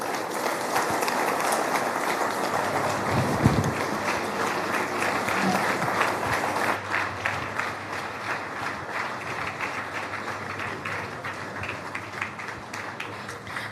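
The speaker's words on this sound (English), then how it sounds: "Another round of applause, please." A large audience at a national rebuilding event in Nigeria applauds in sustained dense clapping, heard from a distance and holding steady for the whole stretch.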